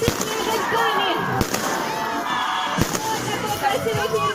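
Fireworks go off at an outdoor Christmas tree lighting celebration in Aldan, Sakha Yakutia, in late December. A few sharp distant bangs punctuate a continuous wash of crowd noise and people talking.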